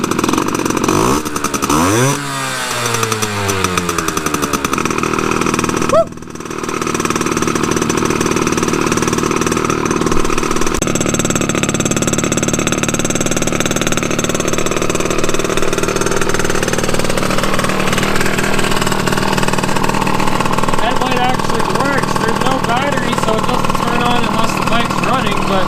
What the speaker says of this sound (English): Just listen to that idle.